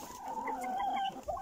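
Chickens, including a rooster, clucking close by in a short, fairly quiet burst of bright, warbling calls.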